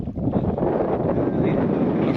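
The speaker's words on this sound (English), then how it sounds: "I think it's too windy" Steady wind buffeting the microphone in Ushuaia, a continuous low roar with rumbling gusts throughout, no clear voices.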